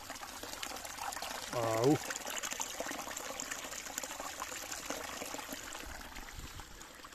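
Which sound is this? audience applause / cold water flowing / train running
cold water flowing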